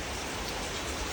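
Steady rain pours down outside a home during a storm, a dense, even hiss of falling drops that holds at a constant level for the whole stretch, with no voices.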